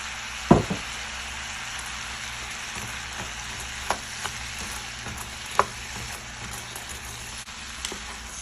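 Green onions go into a pan already frying steak and potatoes, giving a steady close sizzle with a few sharp pops and crackles as they hit the hot fat. No one speaks.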